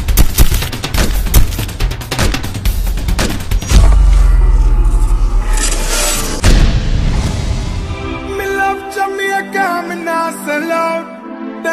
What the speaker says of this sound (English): Shots fired at Church and Troy Avenue.